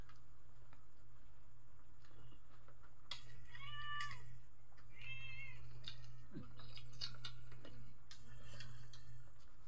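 A hungry cat meows in a home kitchen while chicken caldereta is being cooked: a few short, high meows spaced apart over a steady low hum.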